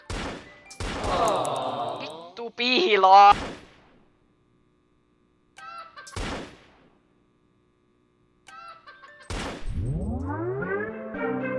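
Video game gunfire in short bursts, several sharp loud volleys separated by silences, with someone talking over parts of it.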